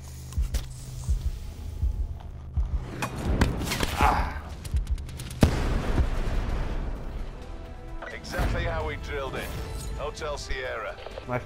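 Random gunfire in Call of Duty: Black Ops 4, a scatter of sharp shots and bursts mixed with game effects, while a player talks over much of it.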